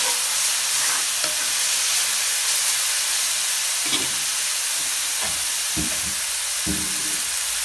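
Sliced large onions fry in coconut oil in a pan for a mutton dish, a constant loud sizzling hiss broken by several dull knocks and scrapes of stirring toward the end.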